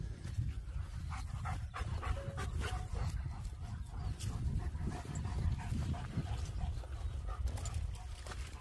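A dog pants rapidly and steadily in the back of a car, with occasional whimpers, fairly close and continuous under a faint voice.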